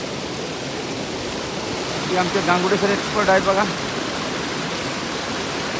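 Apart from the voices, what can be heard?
mountain stream water flowing from the Sahyadri hills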